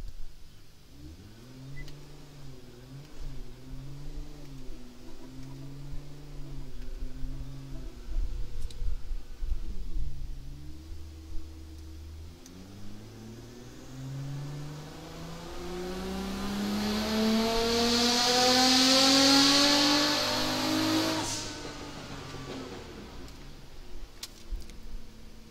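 A car engine, tuned with a Syvecs S6 wastegate control, idles and then pulls hard in a test run, with a rising, loud acceleration roar that climbs through the revs and then drops off.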